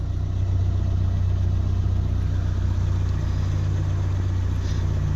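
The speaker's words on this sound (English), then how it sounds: "Obviously I have the engine under load with the headlamps on" A Nissan Bluebird engine runs under load with the headlamps on, a steady, loud, low droning hum with no change in pace.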